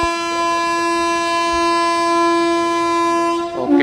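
The Sengottai–Erode Express passenger train sounds a long, loud, steady horn blast that holds for over three seconds before cutting off into rumbling and clanking from the train.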